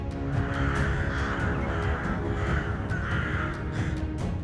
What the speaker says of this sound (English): When a crow appears, it triggers a state of alertness in the vicinity.